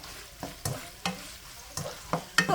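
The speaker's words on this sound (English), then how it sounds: "I'm going to go ahead and add the 1/2 cup chopped onions to the pan" Chopped onions sauté in a pan while being stirred, with soft sizzling under a few sharp utensil taps and scrapes at irregular intervals, close and moderately quiet.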